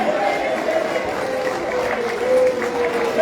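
Audience applause at a state of the nation address by Liberian President George Manneh Weah, a steady sustained wash of clapping from a large crowd with a faint tone running underneath.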